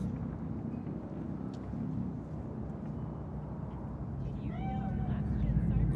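A cat meows softly a couple of times in the video game Cyberpunk 2077, faint over a low windy ambient bed.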